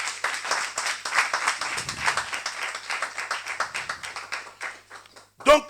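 Congregation in a church clapping and cheering together, a dense run of steady handclaps lasting several seconds with voices mixed in, ending with a brief louder burst.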